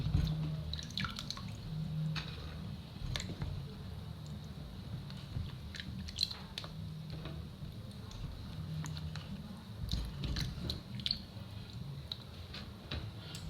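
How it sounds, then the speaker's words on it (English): Water drips from fresh ginger root lifted out of a bowl of water while making a detox juice, a run of small, close, irregular drips and taps against a steady low background hum. "I have to rub the ginger, then remove it from the water."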